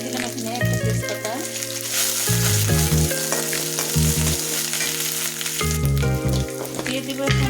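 Whole cardamom and a bay leaf crackle and sizzle in hot oil in a pan while a spoon stirs, a loud, steady fry throughout with music playing underneath.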